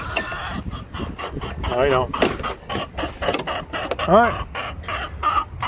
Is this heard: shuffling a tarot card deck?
no